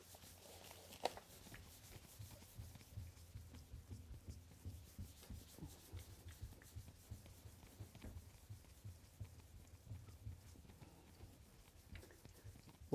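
Steady, soft rubbing against a car's painted surface while lubricated paint overspray is worked off, a continuous low scrubbing with faint rhythmic strokes and no talking.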